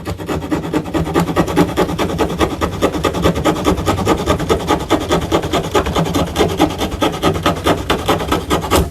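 The folding saw blade of a Ganzo G304 multitool cuts through wood in quick, steady back-and-forth rasping strokes, loud and close, for the whole stretch.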